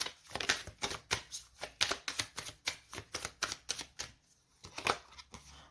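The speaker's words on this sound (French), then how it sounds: "on va mettre une autre carte dessus" Tarot cards slap and slide one after another onto a table during a reading, a steady run of crisp, close taps with a short pause near the end.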